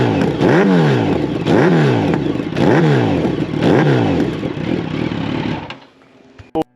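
A 2014 Yamaha FZ8 motorcycle with a Kaufman Shorty exhaust, revved hard four times in a row at close range, each loud rise sweeping up and falling back before the engine cuts off.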